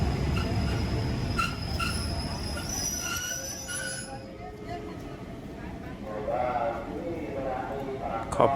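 A train moves through Pak Chong railway station in Thailand, wheels squealing and rumbling at the start, then fading to lighter rail noise while someone speaks throughout.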